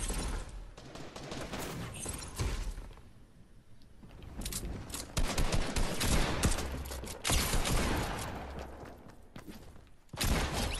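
Rapid gunfire from the Fortnite video game rattles in dense bursts. Loud volleys alternate with a short lull in the middle before the shooting resumes, with shots crowding closely together.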